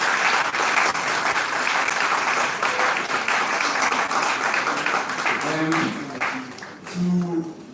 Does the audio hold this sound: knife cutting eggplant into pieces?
no